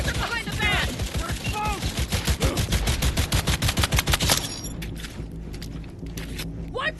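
Gunfire in Cyberpunk 2077 during a street firefight: rapid automatic shots rattle loudly for several seconds alongside shouted in-game voices, then break off into quieter noise and scattered sounds.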